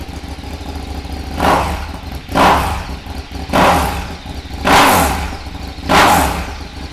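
A 2015 KTM Super Duke R 1290cc motorcycle idles close up, then revs hard five times at steady intervals, each blip rising and falling back to a rough idle.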